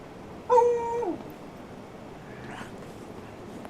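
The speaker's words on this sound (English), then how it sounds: "Constantly worried about fucking zombie dogs now," A zombie dog in the survival game HumanitZ lets out a short whining, yelping cry, followed later by a fainter growl against a quiet, low ambient background.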